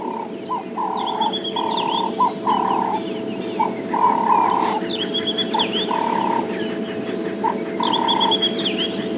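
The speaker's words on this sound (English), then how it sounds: "I'm sure you can hear the Cape turtle dove calling a lot clearer now" Cape turtle dove calling repeatedly from the African bush, its rhythmic cooing phrases heard at moderate distance over a steady background of frog croaks, insects and other bird calls.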